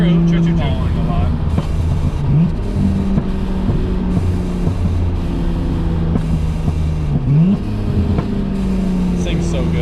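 A Nissan R34 GTR fitted with titanium intakes revs hard through wide-open-throttle pulls, a loud close engine note sweeping up and down in pitch over steady wind rumble, with voices talking over it.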